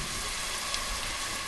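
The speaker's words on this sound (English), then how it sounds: "let's add our onion. That's what I like to hear." Chopped onion sizzles in a hot pot, a steady, bright, even frying hiss that holds at one level throughout the brief moment.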